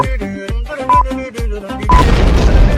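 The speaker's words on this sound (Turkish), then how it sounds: "Bak şimdi size bir bomba atma dersi vereyim." A grenade detonates in the battle royale game PUBG Mobile on the Livik map. A run of rhythmic game thuds and tones leads into one loud, close boom that spreads into a long, noisy rumbling decay.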